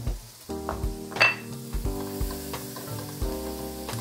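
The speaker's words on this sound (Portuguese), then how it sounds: "Então a gente vai colocar aqui já na manteiga que está quente." Prosciutto (presunto cru) sizzles in hot butter while a risotto with Brie is finished, a steady close frying hiss with brief utensil clicks, under background music and no talk.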